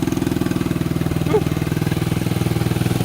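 A Honda 250X motorcycle engine idles steadily up close, its rapid even thumping pulse holding a constant pace throughout with no revving.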